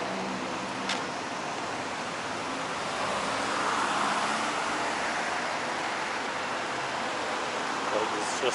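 Heavy traffic on wide boulevards among tall buildings in Kuala Lumpur city center, a steady broadband roar of passing vehicles that swells slightly midway, heard from the roadside with no close voices.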